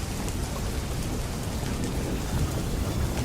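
Steady, dense rainfall hisses evenly on surfaces while a low thunder rumble lingers underneath, with no voices.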